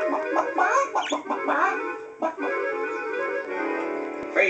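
A human voice imitates a chicken, clucking and bawking in a rapid irregular run of loud, close, nasal squawks that ends on a drawn-out warbling note.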